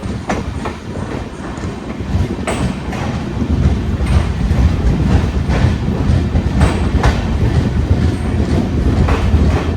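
Loud, close Nizamuddin–Thiruvananthapuram Rajdhani express train rumbling past at speed, with rapid rhythmic clickety-clack of wheels over rail joints throughout.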